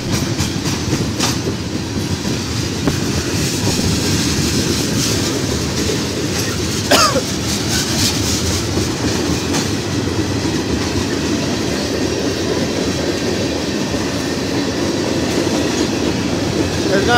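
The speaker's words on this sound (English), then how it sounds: "Freight train going through Effingham." A Canadian National freight train passing through Effingham, Illinois, loud and close, with continuous rumbling wheels, rhythmic clicking over rail joints and a brief metallic squeal partway through.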